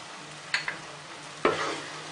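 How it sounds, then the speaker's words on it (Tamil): Chilli and turmeric powder hit hot oil in a pan for a fish curry, giving two quick sizzling stirs followed by a louder sizzle that settles into a soft crackle, close and brief. "இது கொஞ்சம் பரட்டுவோம் எண்ணெயிலேயே."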